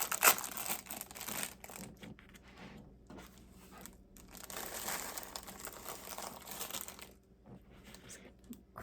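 Crackers being crunched up by hand over a bowl of Cincinnati chili topped with onions, a close, quiet run of crinkling and crumbling bursts with brief pauses between them.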